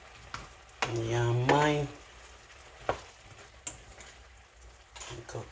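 Squash frying and being stirred in a pan at home: a soft, steady sizzle and occasional scraping sit low under a short burst of nearby talk.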